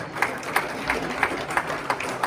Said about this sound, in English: give them applause for using his equipment